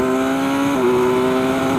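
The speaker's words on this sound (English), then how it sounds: "so to demonstrate again, like what my bike can do, full throttle, down, down," A BMW S1000XR motorcycle at full throttle gives a loud, sustained, close engine drone with a steady tonal whine that shifts pitch briefly as it changes gear, then holds on.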